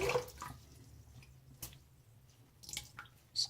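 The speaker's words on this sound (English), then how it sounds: "Squeeze out the brush" A wet shaving brush is squeezed out, giving a few soft, close water drips and splashes spaced irregularly over quiet.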